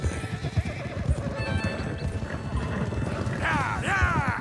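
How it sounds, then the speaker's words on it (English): Horses in the video game Red Dead Redemption 2 whinny and neigh over a steady clip-clop of hooves, with two long neighs near the end; a voice can be heard under the sound. "Come on, horses!"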